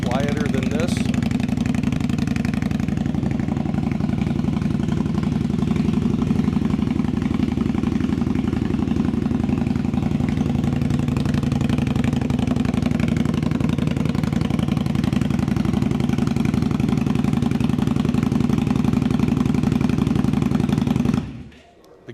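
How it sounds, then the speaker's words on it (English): A 2016 Indian Scout motorcycle with an aftermarket exhaust idles in a steady low, throbbing rumble, close and constant for about twenty seconds before cutting off abruptly, with someone talking over it. "It's a very nice sounding motorcycle."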